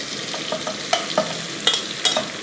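Thinly sliced onions frying in a pan while being stirred, with a soft steady sizzle broken by several sharp utensil scrapes and clinks against the pan.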